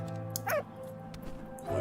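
A dog in the video game Valiant Hearts gives a short, quiet whimper and yip, two brief cries over a soft game background drone with no talk.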